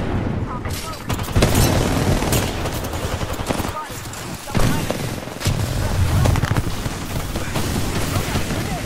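Dense enemy gunfire in a video game firefight, loud overlapping bursts and sharp cracks with booming impacts, nearly continuous with brief lulls, and a voice talking over it.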